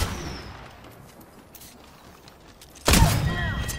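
Gunfire in the Apex Legends battle royale game: faint distant shots at first, then a sudden loud close burst of firing near the end, with a brief tonal game sound over it.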